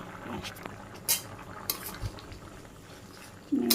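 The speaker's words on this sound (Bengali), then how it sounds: "মুখের বলক এসে পড়ছে তরকারি হয়ে গেছে" Curry with country chicken bubbles at a boil in a pot on a village kitchen stove, a steady low simmer broken by a few short clinks of a spoon and utensil sounds.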